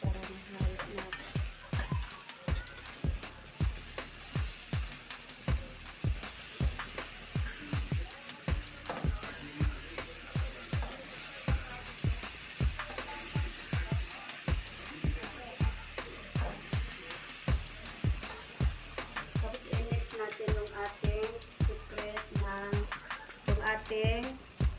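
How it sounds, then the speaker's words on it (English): Ingredients sizzle in a frying pan while a utensil stirs and scrapes through them in frequent, irregular strokes, close up and continuing steadily for a long stretch. "Mix natin guys para mahalo natin."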